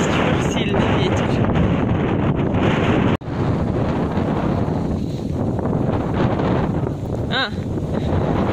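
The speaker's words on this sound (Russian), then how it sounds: "потому что чересчур сильный ветер" Strong wind buffets the microphone in a loud, continuous roar, with a brief dropout partway through and a faint high squeak near the end.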